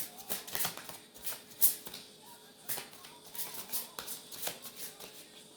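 Old Lenormand fortune-telling cards are shuffled by hand in quick, soft riffling bursts with a few light taps, close and quiet, and no one speaks.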